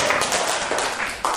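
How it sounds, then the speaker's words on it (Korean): Audience in a Korean lecture hall gives a short burst of applause, quick clustered claps close and fairly loud, lasting about a second. "박수 한번 주세요."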